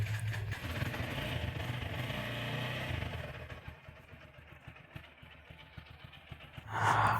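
A black motorcycle with about 20,800 km on it idles just after a cold start, a steady close engine rumble with light mechanical clatter that roughens and dips midway before a louder burst at the end.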